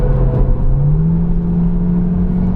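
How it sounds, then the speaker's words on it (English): A Skoda Superb driven on the Nürburgring gives a steady, loud engine drone with a rising whir as it pulls under acceleration, continuous road rumble filling the cabin. "it's not often I get to drive a Skoda Superb"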